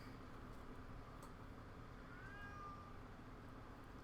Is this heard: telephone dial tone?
no